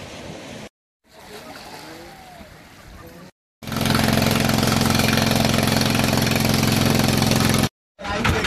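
Several trawler boats idle at the shore near Saint Martin Island, Bangladesh, their engines giving a loud, steady low rumble with a broad wash over it. Beach wind and surf fill the first part before the engine drone takes over.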